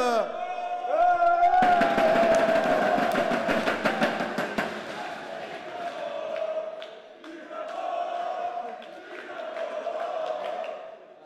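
An audience at the Eurobot 2025 robotics final cheers and makes noise, with loud crowd roar, clapping and a sustained horn-like tone, fading into lighter swells of noise.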